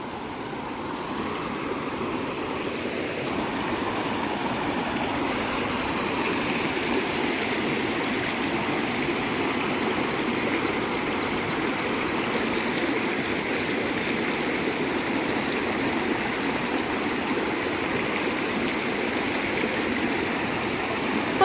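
River water running high after heavy rain, a continuous rushing flow that stays even and fairly loud throughout, with no talk.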